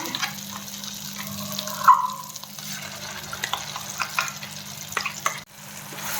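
A ground paste of garlic and chili is added to a pan where curry leaves are already roasting. A quiet, steady sizzle of frying runs throughout, with a soft clink and some stirring scrapes.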